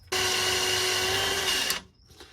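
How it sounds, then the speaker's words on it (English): Motor-driven sanding of a cooler motor part with 1000 grit sandpaper, a steady high whine with a strong tonal hum lasting under two seconds before it winds down, close and alone. "just polish this up, hit it with, I guess, 1000 grit"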